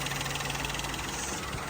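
Peugeot 208 1.2 petrol engine from 2016 running after a clutch replacement, a steady close idle hum with even vibration, short and constant with no voices.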